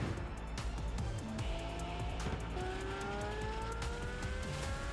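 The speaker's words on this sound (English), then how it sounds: "Lamborghini Countach." A Lamborghini Countach in the PUBG video game revs its engine with rising pitch sweeps and accelerating tones over a busy backdrop of game sounds, fairly loud and continuous.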